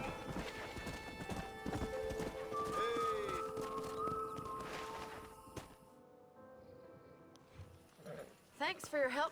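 Horse hooves clip-clop steadily in Red Dead Redemption, close and rhythmic, with a horse neighing and whinnying partway through, game music tones, and a voice speaking over it before the hoofbeats fade toward the end.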